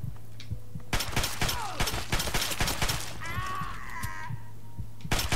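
Rapid gunfire from the video game Fallout 3 crackles in dense bursts of sharp shots, close and loud, with brief gaps and a whining tonal effect partway through.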